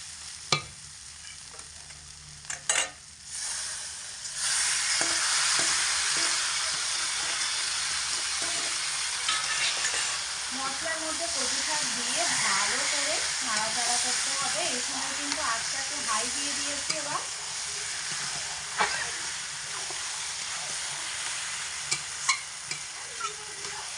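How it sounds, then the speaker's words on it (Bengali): Hilsa fish head sautéing in a spice masala, a steady loud sizzle and frying hiss with scraping stir strokes throughout, and a voice speaking faintly over the cooking. "মাথা দিয়ে মশলার মধ্যে মোটামুটি এক মিনিট মতো কষাতে হবে"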